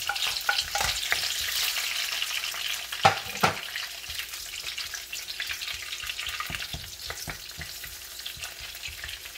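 Onions sautéing in a hot pan for ginisang ampalaya (Filipino stir-fried bitter melon), giving a steady close-up sizzle and frying hiss broken by a few scraping stirs.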